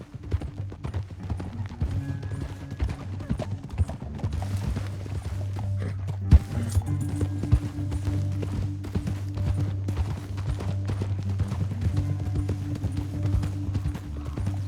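Horse hooves pound in a fast, steady gallop in Red Dead Redemption 2, running on without a break, with rumbling low sound beneath.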